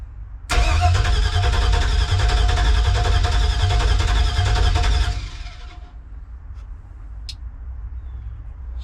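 Starter on a 1965 Chevrolet C10 cranks steadily for about five seconds, loud and close, and the engine then quits and leaves a low rumble with a few faint clicks.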